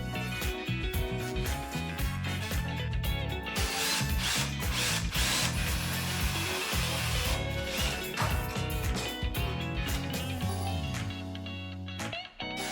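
Wood screws are driven into the joints of a drawer with a power driver, producing rapid rattling, ratcheting bursts that repeat in quick succession at close range over a steady mechanical buzz.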